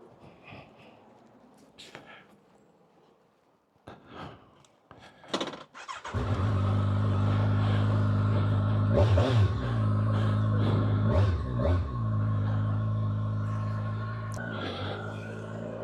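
A 2025 Kawasaki Ninja 1100SX motorcycle starts after a few handling clunks, then idles loud and close with several rising and falling throttle revs that settle back to a steady hum.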